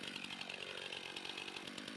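A STIHL chainsaw engine runs with a steady, dense buzzing drone, close and continuous, without any talk.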